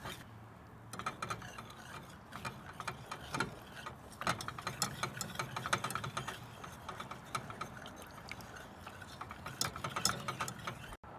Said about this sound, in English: let's go in and whisk in our oil. And this is grapeseed oil.